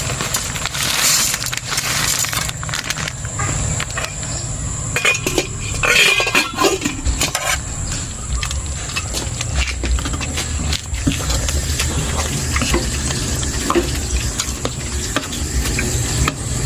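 Spaghetti cooking in a pan for breakfast during an overnight staycation, a continuous sizzle under repeated clinks and scrapes of a utensil stirring against the pan, steady and close throughout.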